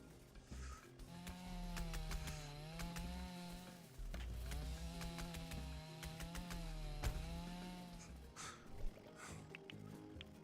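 A chainsaw in the video game Dinkum revs in repeated waves, its buzzing engine pitch rising and falling in cycles with faint background sounds, fairly quiet overall.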